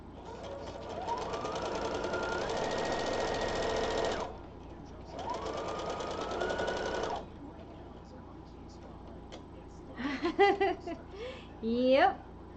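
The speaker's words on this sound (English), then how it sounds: "I also have an industrial electric rotary cutter, the kind that cuts 20 layers at a time for production." An industrial electric rotary cutter built to slice through twenty layers of fabric whirs in two motor runs, the whine rising in pitch during each, followed by brief laughter and voices.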